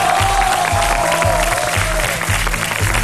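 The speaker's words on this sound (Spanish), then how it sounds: "Un aplauso para él." A studio audience on a Peruvian game show applauds a contestant with a sustained, loud wash of clapping and a faint crowd murmur beneath it, steady across the whole stretch.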